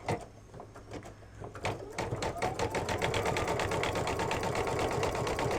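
An embroidery sewing machine stitches a dense satin stitch on an in-the-hoop mug rug, its needle hammering in a fast, steady rhythm that builds from lighter stitching into a loud, continuous mechanical drone up close.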